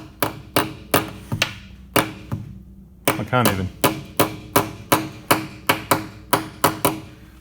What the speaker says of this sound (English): Just going to get the little hammer. I'm just going to give it a little tap, tap.